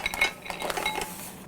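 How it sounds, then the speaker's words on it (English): Mussels dumped into a pot of boiling broth, a short burst of hard shells clattering and clinking against the metal pot, close and fairly loud, fading to a light rattle. "I'm gonna dump my mussels in."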